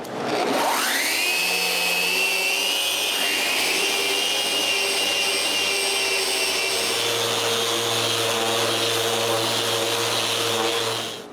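A router spins up with a rising whine and then chamfers the top edge of a wooden workshop cabinet. The steady, close, loud motor drone dips briefly once before winding down at the end.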